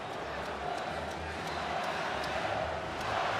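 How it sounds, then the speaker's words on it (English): Hungarian Győri Audi ETO KC supporters cheer in a packed arena during the 2014 Women's EHF Champions League handball final, a steady roaring crowd wash heard from the stands, broad and continuous throughout. "Hungarian fans, well, they're cheering."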